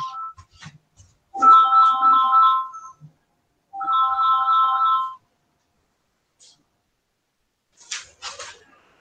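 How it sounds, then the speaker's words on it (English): Mobile phone ringtone plays two clear melodic bursts of a few seconds each, separated by a pause, fairly loud and alone, followed by brief faint rustling. "I'm sorry, my phone is ringing."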